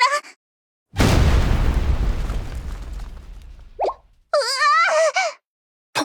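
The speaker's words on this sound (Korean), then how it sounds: "폭발 소리다." A booming explosion from a Blue Archive story scene bursts loudly and rumbles away over a few seconds, followed by brief character voices and a gasp.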